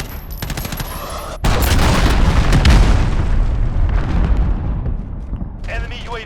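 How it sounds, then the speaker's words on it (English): A Call of Duty Modern Warfare multiplayer match erupts with an enemy cruise missile strike and gunfire: faint shots cut off by a sudden loud blast, then a long roaring rumble with crackling bursts that fades out. "Enemy cruise missile, take cover."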